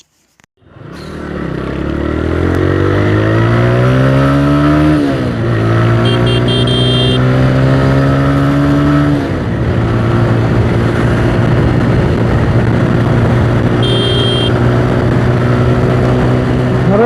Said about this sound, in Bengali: দেখবো আজকে এফজেড এস ভার্সন থ্রি কত স্পিড পর্যন্ত টান তুলতে পারে